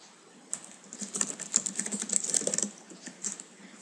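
Typing a short message on a computer keyboard: quick, light, irregular clicks in a close, quiet room, with a pause and then a few more keystrokes.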